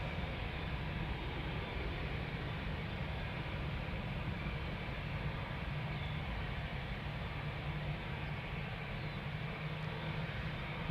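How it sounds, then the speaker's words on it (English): A KLM Boeing 787-10 Dreamliner airliner, about a year old and bound for Toronto, rumbles steadily at Amsterdam Schiphol Airport, a continuous low engine roar holding at an even level with no voices. "Time for a Dreamliner 78710 going to Toronto."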